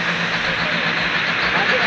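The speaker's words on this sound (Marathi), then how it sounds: "आता रेल्वे आलेली आहे, तुम्ही बघू शकतात." A toy train arriving at the Matheran hill station, a steady rumbling roll with a faint hiss that stays even and fairly loud throughout, with no talk over it.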